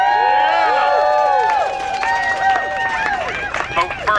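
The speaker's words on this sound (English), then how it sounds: "huge cheer." A crowd at a Washington DC protest rally against ICE raids cheers loudly and continuously, with rising and falling whoops and shouts from many voices close by.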